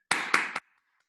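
Hands clapping three times in quick succession, close and crisp, during an online physics seminar, followed by silence.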